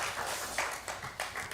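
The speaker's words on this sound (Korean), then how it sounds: "한 번 더 박수하시고 들어가겠습니다" A church congregation claps together during a Pentecost Sunday service, a short burst of rhythmic hand claps in a roomy space, several sharp accents standing out over the crowd's patter.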